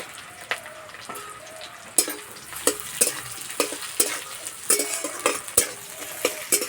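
Chopped onions frying in a pan alongside slit green chillies while preparing an egg and potato dish, with scattered stirring scrapes and clinks of a utensil over a soft, steady sizzle, close up.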